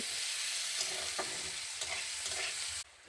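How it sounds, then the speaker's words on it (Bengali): Two medium-sized chopped onions fry in oil, giving a steady close sizzle broken by a few soft stirring scrapes, with no voices, until it cuts off abruptly near the end. "পেঁয়াজটাকে আমি ভালো করে ভেজে নেব"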